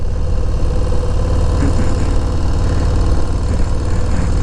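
A Harley-Davidson Low Rider S motorcycle engine idling close by, a steady, loud, throaty rumble with an even low pulsing throughout.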